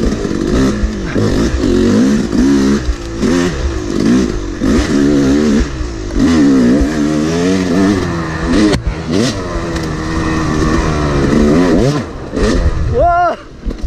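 An enduro motorcycle rides a rough forest trail, its engine loud and close with repeated throttle blips and revs rising and falling, mixed with clattering over debris and a brief sharp rev near the end.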